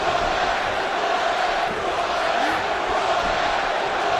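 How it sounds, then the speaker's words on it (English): An arena crowd in the WWE 2K wrestling video game keeps up a dense, continuous roar of chanting voices at an even level, with no single voice standing out. "Crowd chanting, "Who are you?""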